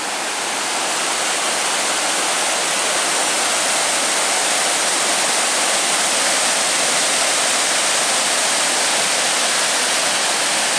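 Fast water rushes through a narrow rock cut at Hull's Creek Falls, a loud, dense, unbroken roar that stays steady throughout with no voices over it.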